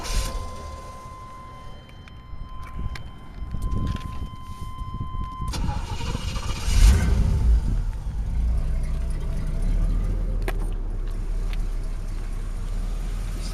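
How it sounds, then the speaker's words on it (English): A 1984 Chevrolet Monte Carlo CL starts up and settles into a steady run, with a low engine drone that carries through to the end over a background hum. "I'm gonna go ahead and start the car up and let you hear how it sounds running"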